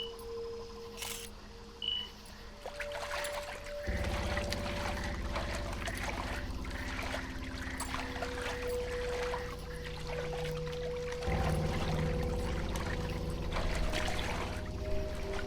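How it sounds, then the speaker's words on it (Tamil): Slow wading steps through water as a sound effect, soft sloshing and trickling splashes under a steady low background drone, quiet and continuous with layered ambience shifting partway through. "கொஞ்சம் ஃபோட்டோஸ் எடுத்துகிட்டு மெதுவாக தண்ணியில் இறங்கி நடக்க ஆரம்பித்தான்."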